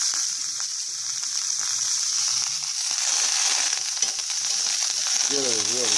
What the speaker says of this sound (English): We got the steak going.